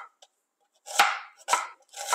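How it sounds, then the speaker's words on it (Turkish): Onions being sliced into half-moon julienne strips on a cutting board for a Turkish summer dish, three crisp, close knife chops at steady intervals after a brief quiet start. "ben de bu arada soğanlarımı doğruyorum. Soğanlarımı yarım ay şeklinde piyazlık dediğimiz şekilde jülyen kesiyorum."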